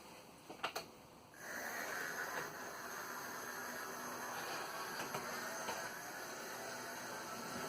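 After a couple of clicks, a small model Piko track cleaning car runs steadily along its track at about a quarter power with a constant whirring hum and faint rattles.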